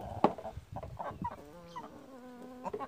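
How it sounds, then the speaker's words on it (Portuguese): A frizzle chicken, the curly-feathered breed, clucks nearby in a quiet yard, with a few short sharp notes followed by a drawn-out tonal cluck, fairly soft overall. "Uma raça galinha diferente, né? A galinha arrepiada"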